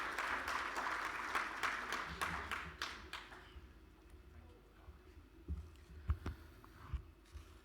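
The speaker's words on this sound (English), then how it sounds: "A round of applause for him," An audience claps at a climate innovation symposium at the Ghana Climate Innovation Center. The dense applause lasts about three seconds, then dies away into quieter room noise with a few faint knocks and a voice.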